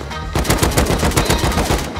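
Rapid automatic AK rifle fire in the game Rust comes as a loud, close burst of sharp repeated shots that runs for most of two seconds after a brief quiet start.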